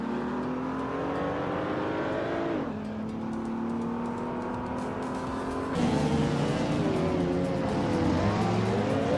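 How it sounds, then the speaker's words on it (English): Race cars in a racing video game, among them a 2000 Plymouth Prowler, roar continuously with steady engine drones that shift pitch as gears change, loud and sustained without pause. "Scuderia Veloce is driving a 2000 Plymouth Prowler"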